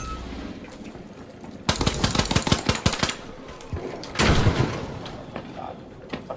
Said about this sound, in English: God, fucking grenade launcher spam, bro